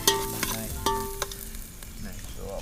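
Onions and spices fry in oil at a village cooking spot in Malaysia, producing a steady sizzle and a few clinks and scrapes near the start, with no one talking.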